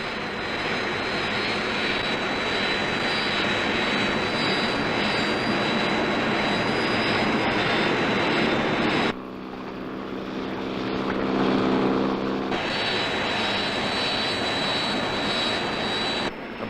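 Search aircraft engines roar in a continuous loud drone as they fly over a sea rescue area, the tone shifting and dipping for a few seconds midway before the full roar returns.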